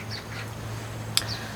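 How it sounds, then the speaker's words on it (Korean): A magpie calls outdoors, giving a few faint, short chattering cries at a distance over a steady low hum, with one sharp click partway through. "지금 오선인데 까치가 되게 우네요."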